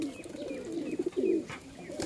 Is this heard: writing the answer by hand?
no